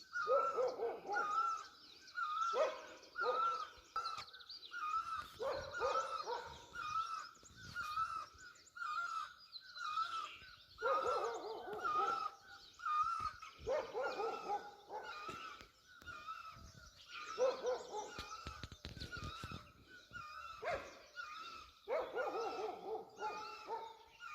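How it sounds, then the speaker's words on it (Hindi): A bird calls over and over with harsh, repeated cries while a dog keeps barking nearby, the two overlapping steadily at moderate distance, at the Anasakti Gandhi Ashram in Kausani. "एक पंछी लगातार चीख रहा है और एक कुत्ता लगातार चीख रहा है।"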